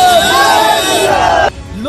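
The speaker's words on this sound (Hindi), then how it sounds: "भीड़ ने तेजस्वी के सामने लगाए मोदी मोदी और जय श्री राम के नारे।" A political crowd in Bihar chants Modi Modi and Jai Shri Ram slogans before Tejashwi Yadav's convoy, a loud, continuous rhythmic wall of massed voices that cuts off abruptly near the end.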